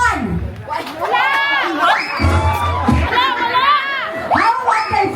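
A wedding reception crowd shouts and cheers loudly in a hall, with excited voices rising and overlapping in bursts rather than a steady roar.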